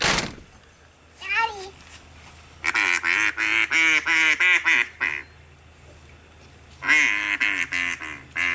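A duck quacks in repeated bursts of harsh, nasal calls, close and fairly loud, coming in two longer runs separated by a pause, with a brief higher call early on.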